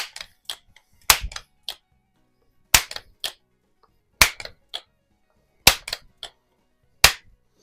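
Shots from a 1955-56 Crosman 140/147 pneumatic air pistol after repairs, sharp isolated cracks spaced about a second or more apart with fainter clicks and handling noise between them, outdoors while plinking.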